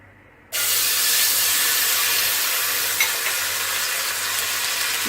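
Sliced garlic hitting hot oil in a pan for chicken Manchurian, bursting into a loud, steady sizzle after a brief quiet moment and hissing on evenly, close and alone.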